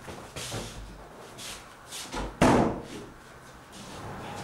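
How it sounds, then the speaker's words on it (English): A door swung shut in a veterinary clinic, giving one solid thud partway through amid quiet room noise and soft movement. "Close the door."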